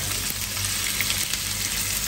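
Meat fries in a pan with a steady, moderate hiss and light crackle that runs evenly throughout, with no voices.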